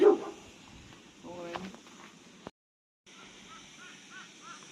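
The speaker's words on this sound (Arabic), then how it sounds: "ويلي كلب" A dog gives a couple of sharp barks nearby, outdoors near a villa with a pool. Birds and a person talking are heard around it, and there is a brief gap of silence.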